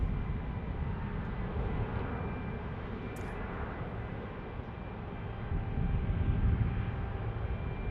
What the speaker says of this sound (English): Southwest Airlines taking off.